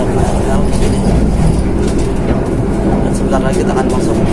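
From inside the Argo Semeru passenger train passing Cikarang station, a loud continuous rumble and rattle of the carriage rolls on with rhythmic wheel clatter, with voices murmuring over it.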